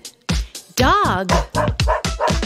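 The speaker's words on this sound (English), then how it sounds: "Dog." A cartoonish dog bark in a preschool learning program, a few short yelping barks and a whine in a quick burst, loud and close.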